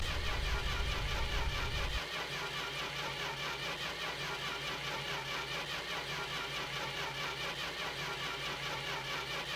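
In My Winter Car, a car engine cranks without starting, choke out and throttle pumped: a steady, rhythmic churning of the starter that runs on continuously, slightly heavier for the first two seconds, with no catch.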